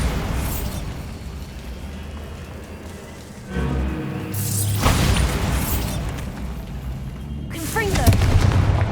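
Bombarda blasting spells go off in Hogwarts Legacy as several loud, heavy booms, each followed by a rumbling tail and a scatter of debris over ongoing game noise.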